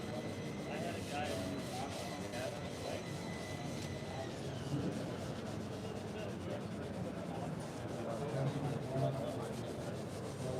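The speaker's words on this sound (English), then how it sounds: "We're just going to scrub and get those seat the rest of the way we want it" A leather car seat being scrubbed at an automotive trade show, giving a continuous, even rubbing and brushing sound under a steady murmur of background voices.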